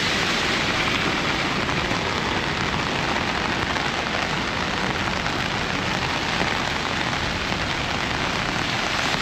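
Heavy rain pours down during Taiwan's rainy season, making a loud, dense, unbroken hiss with no pauses.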